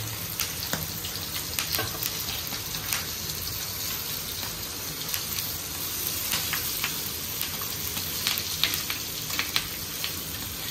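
Fish frying in a pan with curry leaves scattered on top, a continuous crackling sizzle with scattered sharp pops and spits, steady and close throughout.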